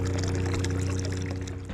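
Brine water from a sailboat watermaker outlet pouring steadily over the side, a loud continuous splashing gush close by with an engine-like hum beneath, no voices.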